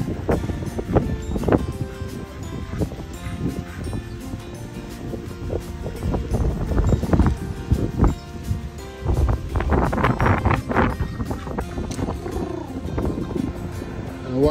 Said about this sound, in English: And away goes the boat into the marina.